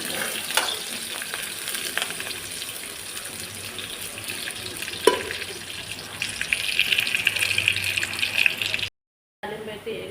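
Tempering for leafy ponnaganti dal, with onions among the seasonings, frying in a pan as a steady broadband sizzle with stirring and some running-water sounds, close and continuous throughout before cutting out briefly near the end.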